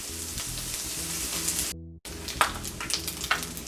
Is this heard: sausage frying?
yes